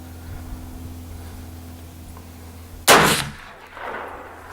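A single loud gunshot fired while hunting, cracking suddenly out of a quiet outdoor background and trailing off in a short echo.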